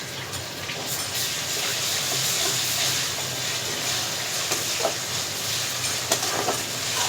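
Ginger-garlic paste and onion fry in a hot pan for a dried chela fish curry, giving a steady, loud sizzle and hiss with occasional stirring scrapes throughout.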